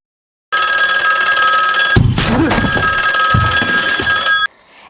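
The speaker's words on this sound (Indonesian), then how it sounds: "Tak lama, telepon berdering." A telephone bell rings loudly and continuously for about four seconds, a steady electronic trill that stops abruptly, in a dramatic narrated crime story.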